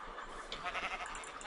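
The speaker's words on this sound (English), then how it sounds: "Oh, sheep. Come here." Sheep in the Minecraft video game bleat faintly and briefly, a few thin calls sitting low under steady background noise.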